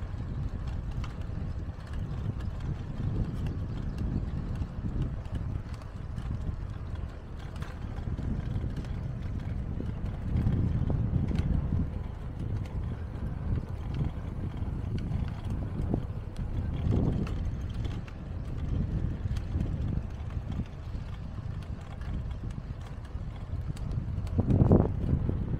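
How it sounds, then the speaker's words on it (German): Warm Calima wind blows at Maspalomas on Gran Canaria around sunrise, a steady low rumbling rush with gusts buffeting the microphone throughout. "Ich habe schon gemerkt, der warme Wind jetzt unterwegs."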